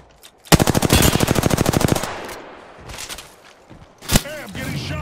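Gunfire in Apex Legends: a rapid burst of around twenty automatic shots fired close, then a lull of game noise and a couple of further sharp shots, with no one talking.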